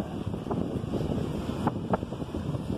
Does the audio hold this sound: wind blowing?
yes